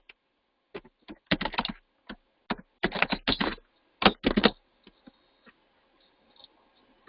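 Java method name typed on a computer keyboard, with bursts of quick, close key clicks separated by short pauses, then trailing off into a few isolated taps.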